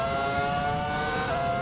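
The Ferrari F2004 Formula One car's engine in the F1 2020 video game screams continuously at high revs, a loud, sustained whine with shifting pitch and no talking over it.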